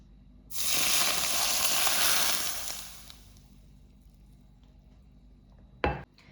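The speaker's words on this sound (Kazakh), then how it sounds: "Енді салаттың үстіне ыстық сұйық майды құямыз" Hot liquid oil is poured over a beet salad topped with parsley: a loud, bright sizzle bursts up and holds for about two seconds, then fades, and a single sharp clink of dishware follows near the end.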